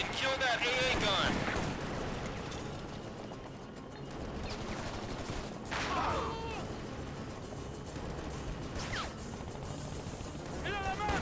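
Gunfire in the video game Shadow Ops: Red Mercury, a steady dense barrage of shots and crashes running the whole time, mixed with in-game voices and radio chatter.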